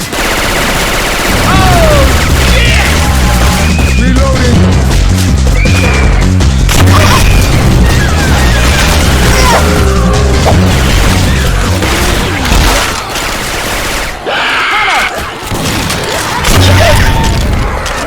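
Pipe bomb blast in Left 4 Dead 2 using Syphon Filter weapon sound effects, heavy booms amid rapid bursts of gunfire and crashing impacts, loud and continuous over about eighteen seconds.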